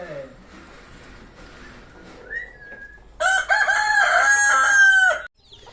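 A native country rooster crows once, loud and close, its long strained call following a short stretch of quieter background noise with faint sounds.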